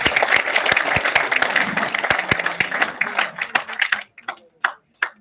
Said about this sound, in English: can we have a big round of applause for each one of you?